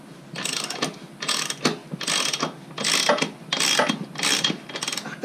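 A wrench works a tight nut on the rear chain adjuster of a Suzuki V-Strom motorcycle, giving six or so loud bursts of rapid ratcheting clicks close up, with short gaps between strokes and no talk.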